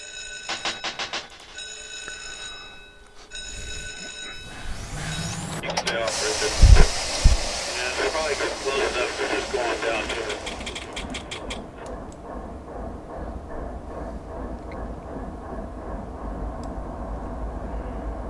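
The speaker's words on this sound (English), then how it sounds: "Let's get these engines started here real quickly here." Diesel locomotive engines in a train simulator game start up on the Cajon grade with multiple distributed power units, with a hissing air release and a rising rumble that settles into a steady idle drone.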